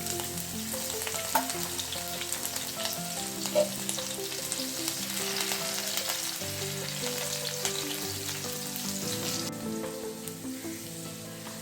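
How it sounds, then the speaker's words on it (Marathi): Finely chopped green chillies fry in hot oil in a kadhai, a steady crackling sizzle that stays close and even, with occasional pops and faint tonal hum underneath; no voices. "तेल गरम झालेलं आहे तर ह्याच्यामध्ये मी आता बारीक चिरलेल्या मिरच्या आहेत त्या घालते"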